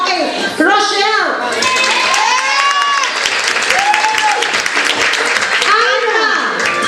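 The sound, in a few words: audience applause used as a vote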